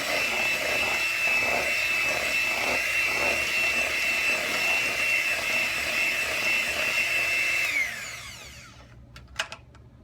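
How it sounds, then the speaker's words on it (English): An electric mixer beats vanilla into a dulce de leche cheesecake batter, whirring loud and steady close by for about eight seconds before winding down and stopping, followed by a couple of light clicks. "we're adding the vanilla to it, and we're just gonna beat it up, mix it in"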